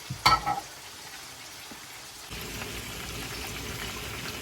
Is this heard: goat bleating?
no